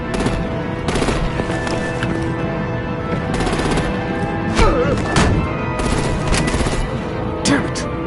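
Rapid gunfire and heavy booms from a Batman Telltale game battle, with artillery fire against vehicles, keep up a dense, continuous clatter throughout, with sharper bursts standing out near the middle and end.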